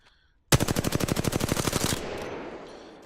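R-301 rifle from Apex Legends spraying in full-auto: a single rapid, evenly spaced burst of about twenty loud shots lasting roughly a second and a half, followed by a short fading echo tail.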